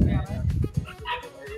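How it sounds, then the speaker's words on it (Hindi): Dogs at a dog farm yip, bark and whimper in quick, close bursts as they play-wrestle, with a person talking over them. "देखो कुश्ती चल रही है कुत्तों की"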